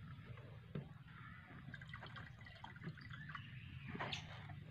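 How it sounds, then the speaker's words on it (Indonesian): Diluted liquid fertilizer for oil palm seedlings is poured back into a container, giving a steady, close trickle and splash of liquid with a few scattered drips. "Kita encerkan lagi, lalu kita tuang kembali."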